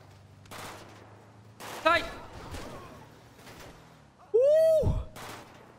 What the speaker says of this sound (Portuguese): cara tá atirando em mim